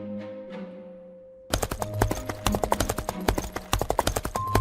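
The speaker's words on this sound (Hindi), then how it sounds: "बाहर आते ही घोड़े बहुत तेजी से भागने लगते हैं।" Several horses galloping fast, a rapid run of sharp hoofbeats that bursts in loudly after a quiet opening and continues in an uneven rhythm.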